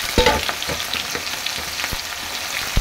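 Onion frying in oil left over from frying potatoes, a dense close crackling sizzle with a few clinks and spatula strokes throughout, no one speaking.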